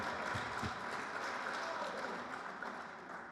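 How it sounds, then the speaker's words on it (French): A gathered audience applauds a newly elected mayor at a public event, with dense, even clapping that fades slightly toward the end, with no voices over it. "Ouais, on peut l'applaudir, exact."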